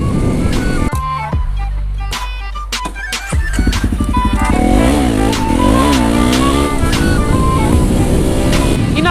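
A motorcycle rides out to refuel at a gas station, its engine loud and close throughout with shifting revs and steady roar.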